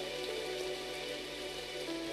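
Rain from the Shuffle! video game falling steadily as an even, continuous hiss of drops on surfaces, moderately loud and unbroken, with no voices.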